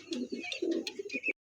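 Golden Swachandan pigeons cooing up close in a brief run of soft, throaty coos, several short calls in quick succession, loud and clear with no talking.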